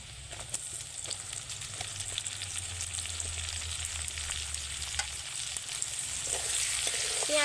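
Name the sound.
chopped onion frying with ginger and garlic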